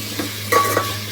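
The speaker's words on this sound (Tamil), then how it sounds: "நல்லா வந்து கிளறி விட்டுக்கலாம்" Vegetables for sambar stirred and sautéed in a hot pan, a short sizzle with a brief scrape and clink of a utensil against the metal, close and fairly loud.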